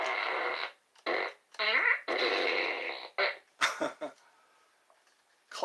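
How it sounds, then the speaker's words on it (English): A toy fart gun blasts a series of loud clown fart noises, several bursts of varying length with short gaps, some buzzing and wobbling, ending in quieter sputters. "a fart gun."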